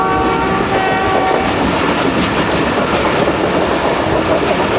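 A train rolls along a scenic mountain railway with a loud, steady rumble and rattling of wagons, its horn sounding briefly at the start, close and without talk.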